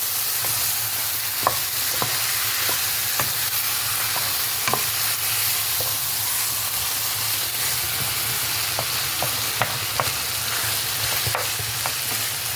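White olives frying with spices in oil for an Algerian white olive tajine, a continuous close sizzle and hiss with occasional sharp pops and crackles, and no talking.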